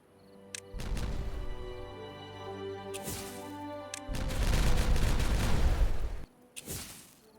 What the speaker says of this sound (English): The game doesn't seem to like explosions on high speed for some reason.